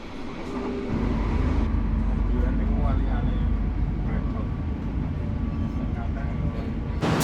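A Sancaka Utara passenger train runs at night, held to about 100 km/h, with a steady low rumble and rolling noise throughout and a voice talking over it.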